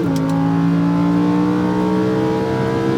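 A Lamborghini Huracán pulls hard on a race track in Las Vegas, its engine note climbing steadily in one loud, continuous rising howl, close and unbroken.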